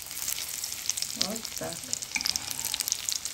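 Sausage and cheese cutlets coated in breadcrumbs sizzle and crackle steadily in a frying pan, close and continuous, with someone briefly speaking over the frying.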